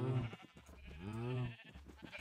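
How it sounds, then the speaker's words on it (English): Two drawn-out bleats from a sheep in the Minecraft video game, close and clear, the second longer, with faint background tones. "I can go get a white sheep."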